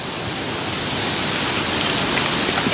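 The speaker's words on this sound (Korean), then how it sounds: "진입로에 딱 들어서자 어디에서부턴가 시원한 물소리가 들려옵니다" Water rushes steadily somewhere along a path toward the sea on a Seychelles island, a constant broadband hiss with no breaks, fairly loud and close.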